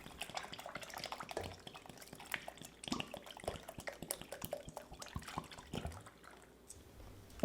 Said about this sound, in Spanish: ahora sí, agregamos 1 litro de leche